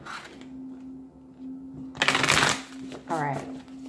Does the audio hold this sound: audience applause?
no